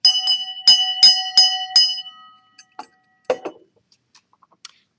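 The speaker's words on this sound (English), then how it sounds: "ringing the bell of Genesis." A small bell named the bell of Genesis rings several times in a quick, evenly spaced series of clear, ringing strikes, close and alone, followed by a few faint taps and clicks.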